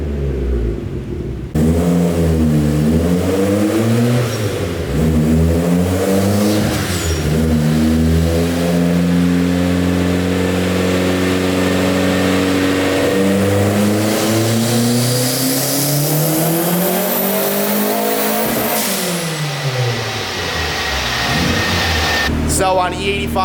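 Loud, sustained revving of a Mazda Miata engine on a dyno, running on E85 fuel, climbing and falling in pitch through repeated sweeps and holding near full throttle for long stretches without pause.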